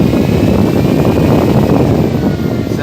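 Propellers of an Avios PBY-5A Catalina 1900mm RC model plane run at steady high throttle, a loud, close, continuous whirring drone with no talk.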